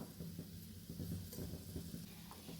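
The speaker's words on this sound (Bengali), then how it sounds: "এবার একসাথে ফ্রাই করে নিচ্ছি" Mashed sweet potatoes and onions frying together in a pan, a faint low sizzle with soft stirring rustles throughout, quiet and close, no one speaking.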